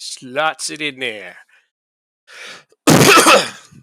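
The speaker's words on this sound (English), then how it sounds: "That was a cough, not a sneeze." A short cough bursts out loudly near the end, broad and harsh, after someone speaks briefly and a pause follows.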